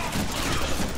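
Dense, continuous gunfire from the Deadpool video game, a steady roar of rapid shots filling the whole second with no pauses.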